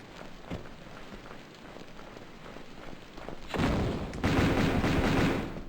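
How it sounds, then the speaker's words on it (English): A grenade launcher fires in a video game, shown as a run of quick gunfire-like bursts and thuds building to a louder, denser stretch of blasts near the end. "Grenade launcher is probably the best bet here."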